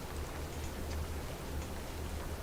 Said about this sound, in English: There's the rain. There's the frickin' rain.